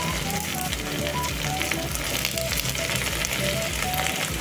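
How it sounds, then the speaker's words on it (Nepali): Goat leg meat with onion frying in a pan for mutton leg soup, a loud dense continuous sizzle and crackle with steady spitting, close up and uninterrupted. "मासु चाहिँ हाम्रो मजाले भुट्यो"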